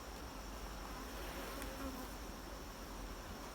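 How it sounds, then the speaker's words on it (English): A dense, steady buzzing of many honey bees swarming close around a beehive whose honey supers are full, with foragers returning in the early evening; the hum runs continuously and fairly loud throughout, with no talking. "there's so many bees"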